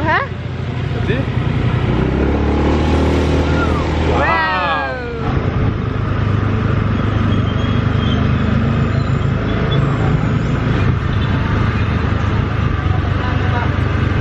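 A scooter in Bantayan, Philippines, revs and accelerates up close, its engine note sweeping sharply upward, then settling into a loud, steady ride with wind and road noise.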